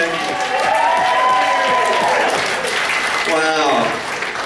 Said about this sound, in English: Another round of applause for Shaggy